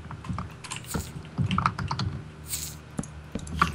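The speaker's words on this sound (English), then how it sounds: "Seriously, who is typing?" Rapid, uneven clatter of computer keys being typed, close by and fairly loud, with short pauses between bursts; no voices.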